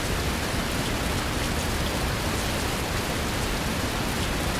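Rainfall in the bus simulator game Fernbus Simulator, an unbroken broadband patter of drops hitting surfaces at a constant moderate level, with no talk over it.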